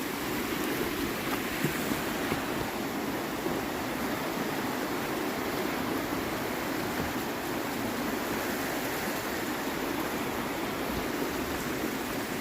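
Steady broadband rush of running water flowing beneath a bridge near a base camp lodge, continuous and fairly loud, with no voices over it.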